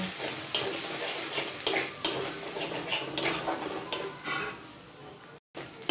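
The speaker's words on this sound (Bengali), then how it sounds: "দিয়ে ডিমটা আমি গুঁড়ো করে ভেজে নেব" An egg is scrambled and fried in a pan with a little salt, giving a soft sizzle under repeated sharp scrapes and taps of a utensil against the pan, close and steady with no talking.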